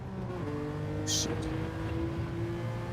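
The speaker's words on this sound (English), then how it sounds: "Rev limiter." A Gr.3 race car in Gran Turismo 7 at Deep Forest drones on the rev limiter, a steady buzzing engine note held flat at high revs for the whole stretch, with a brief bright burst partway through.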